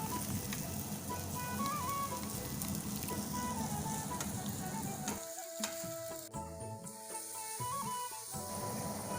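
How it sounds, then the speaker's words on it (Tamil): Beef roast frying in a pan with loud, continuous sizzling and stirring scrapes. Partway through, the sizzle briefly eases and some tonal clinks show, then the frying carries on. No talking. "நல்லா பொன்னிறமாக அதை வறுத்து எடுத்துக்கணும்."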